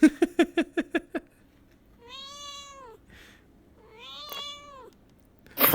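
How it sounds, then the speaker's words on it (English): A toy dragon slayer great sword plays a sound effect: a quick burst of six sharp clicks or taps, then two drawn-out electronic meows with a short pause between them, followed by a loud rustle. "It meows at you."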